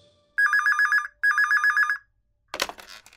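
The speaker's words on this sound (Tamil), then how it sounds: "அந்த நேரத்தில் தான் மறுபடியும் ஒரு ஃபோன் அடிக்க ஆரம்பிச்சது" A classic telephone bell rings in two sharp trilling bursts, loud and close, followed by a brief clatter as the handset is picked up.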